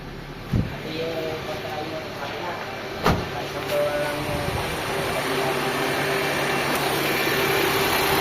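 A car engine idles with a steady low rumble, close by under the open hood while freon is added to the air conditioning after a compressor replacement, interrupted by a couple of sharp clicks or thumps.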